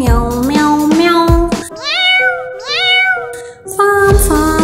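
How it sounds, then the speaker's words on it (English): Sung cat meows from a children's farm animal nursery song, several drawn-out, melodic meows in a row, loud and close over bright backing music. "We'll see the cats, white lovely cats,"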